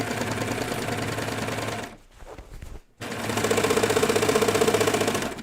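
Sewing machine stitching through denim jeans, running in fast steady bursts with a brief pause midway before it resumes, close and loud.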